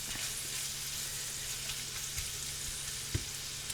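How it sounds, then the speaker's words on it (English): Bacon bits frying low and slow in a pan to render their fat, a steady close sizzle with faint crackling pops throughout and one louder pop near the end, with no talking. "I'm going to let this cook low and slow for a while"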